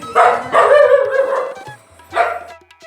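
Dogs bark at a house in Rajapalayam, giving a few loud, close barks in two bursts separated by a short pause.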